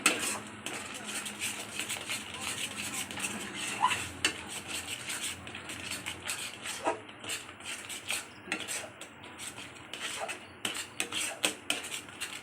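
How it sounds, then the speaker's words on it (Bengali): A carrot barfi mixture being stirred in a pan, with a utensil scraping and clinking against the metal in a steady, continuous rhythm, fairly close and moderately loud, with faint background noise. "ভালো করে নাড়তে হবে। নাড়তে নাড়তে এটা আস্তে আস্তে পাক খেয়ে আসবে।"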